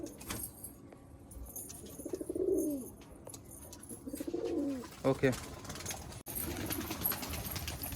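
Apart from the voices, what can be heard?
Punjabi Malwai pigeons cooing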